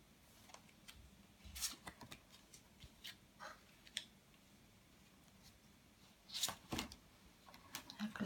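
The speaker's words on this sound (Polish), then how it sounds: "Lecą karty, wszystkie na raz." Tarot cards being shuffled for a horoscope reading give soft, quiet flicks and riffling snaps in irregular clusters, with a few louder bursts standing out from a faint background.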